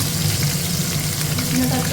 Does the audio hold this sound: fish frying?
yes